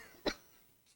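A single short, sharp cough from a preacher during a sermon on 1 Thessalonians, followed by quiet room tone.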